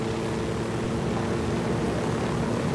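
A helicopter in Ghost Recon Wildlands flies with a steady, loud, unbroken engine and rotor drone, a constant broadband roar with a low humming tone and no pauses.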